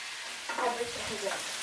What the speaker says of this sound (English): We're just going to stir these potatoes around